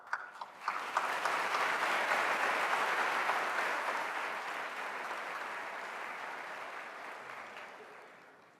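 A university College of Education spring convocation audience breaks into applause after a few opening claps, swelling into a broad, steady ovation that slowly fades toward the end.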